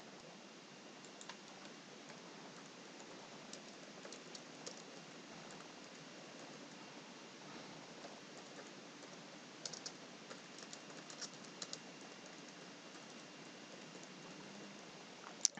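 Quiet, continuous clicking of computer keyboard keys as a package name is typed, steady and faint with occasional louder taps and no speech.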